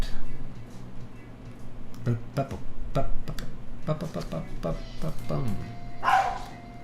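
A dog indoors lets out a series of sharp barks and yips in uneven bursts, moderately close, mixed with a person talking and faint clicking noises.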